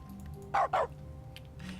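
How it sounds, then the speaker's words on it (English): Two quick dog barks sound in The Stanley Parable video game, triggered by mouse clicks, short and close over a low steady hum. "Every time I click and stuff now, there will be a barking noise."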